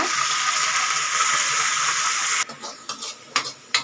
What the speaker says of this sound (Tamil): இந்த மசாலா போட்டு எண்ணெய் பிரிகிற அளவுக்கு வதக்கிக்கலாங்க